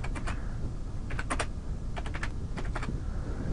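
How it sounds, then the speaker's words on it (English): Keys clatter in small bursts on a computer keyboard as a short phrase is typed into a content management system page, the taps light and close with steady room hiss and no speech. "I'm going to just type create a page."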